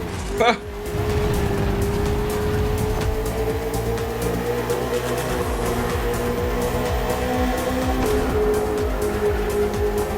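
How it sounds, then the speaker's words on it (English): A KTM RC16 racing motorcycle and a Ferrari 488 GT3 race car scream around a circuit in the video game The Crew Motorfest, a continuous high engine whine with gear-shift dips under a voice. "On track this evening, the KTM RC16 takes on the Ferrari 488 GT3."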